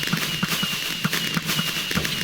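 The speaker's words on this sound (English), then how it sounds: "It's fireworks" Fireworks bursting in the video game Divine Woods during a Valentine's Day event, a rapid run of small popping cracks at an uneven rhythm over a steady bright hiss, fairly quiet and continuous.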